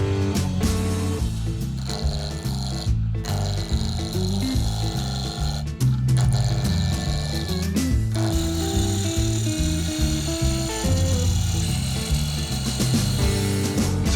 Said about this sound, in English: Let's go turn a handle.